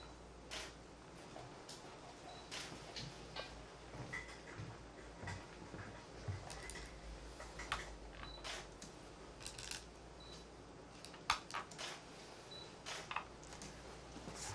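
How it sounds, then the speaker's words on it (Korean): Camera shutters click repeatedly and irregularly at a professional Go final match, with sharp, faint snaps scattered across a quiet room and no talking. "왠지 카메라 셔터 소리가 쉬지 않고 들리는군요"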